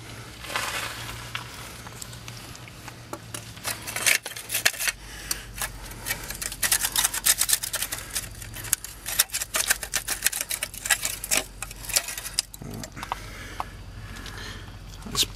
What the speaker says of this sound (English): Rattling.